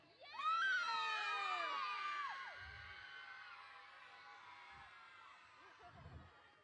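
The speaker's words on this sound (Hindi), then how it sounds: "बच्चों एक आवाज मारो तो जोर से।" A crowd of children at a 2024 school annual function shouts loudly together in a high, rising chorus. The chorus peaks early and then fades into a longer sustained cheer, with a few low thumps underneath.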